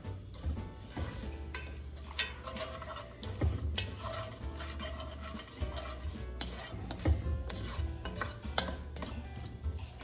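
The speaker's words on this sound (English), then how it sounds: "Now I'm going to start stirring it." Homemade lasagna sauce stirred in a pan, a continuous rasping scrape of the utensil against the pan with soft sizzling and occasional clinks, close and steady with no talking.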